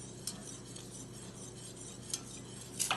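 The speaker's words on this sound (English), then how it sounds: "Now we'll mix it up." A spoon clinks and scrapes inside a glass while an almond custard milkshake with pink syrup is stirred, light repeated taps over a low steady hum, close and quiet with no talking.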